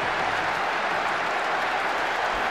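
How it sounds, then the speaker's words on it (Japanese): Large stadium crowd roaring in sustained, dense cheers right after a goal levels the score in a Paris Saint-Germain football match, loud and unbroken throughout. "スタジアム中が大歓声で揺れています。"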